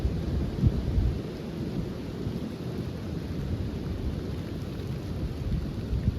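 Steady rain hiss with deep low rumbling, a continuous dense wash of sound that stays even throughout, suggesting thunder rolling beneath the downpour.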